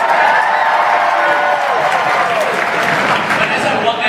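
Live audience at a Walking Dead stage event applauding and cheering, a dense, steady roar of clapping that fills the whole stretch, with crowd voices mixed in.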